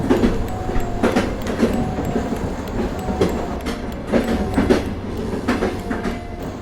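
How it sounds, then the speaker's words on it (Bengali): A speeding train used as a sound effect in a spoken horror story, with loud rhythmic clickety-clack of wheels over rail joints repeating steadily throughout, and no voice over it. "ট্রেন দ্রুত থেকে দ্রুততর গতিতে ছুটে চলল লখনৌয়ের উদ্দেশ্যে"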